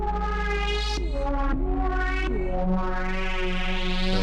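Sustained Arturia JUP-8000 V software synthesizer tone with rich harmonics, shifting through several pitch changes, its upper partials sweeping and swirling as a phaser effect colors the sound.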